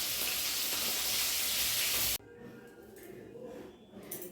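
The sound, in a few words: fish frying in a pan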